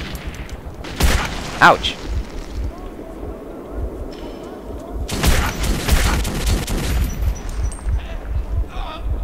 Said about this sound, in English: This gun has two firing modes, shoot and shoot.